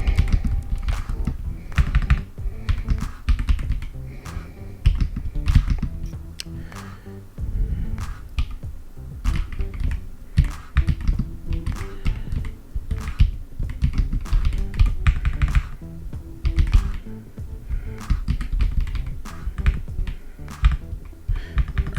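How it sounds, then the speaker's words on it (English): Rapid, uneven clatter of typing on a computer keyboard, with close, crisp key taps in bursts and short pauses over a long stretch and no talking. "Can't type on it because the keyboard's in the wrong place. I'm not this bad of a typist."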